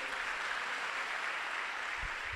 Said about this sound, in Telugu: కొట్టి ఇప్పుడు చప్పట్లో